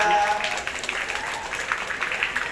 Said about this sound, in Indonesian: Tepuk tangan dong buat teman kita